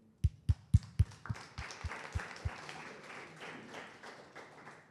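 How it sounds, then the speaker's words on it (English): Audience applause at a Starknet coding basecamp session: a few loud, spaced claps up close at first, then a scattered, fainter round of clapping from the room that tapers off. "just a round of applause to everybody"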